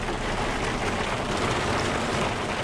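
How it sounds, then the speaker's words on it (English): Steady, even rain hisses outside a 2019 Jeep Wrangler Unlimited Sport JL, filling the short stretch as a broadband wash close to the microphone with no voices over it. "it is pouring rain"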